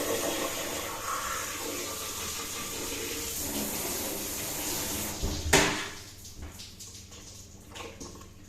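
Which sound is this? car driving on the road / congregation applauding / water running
water running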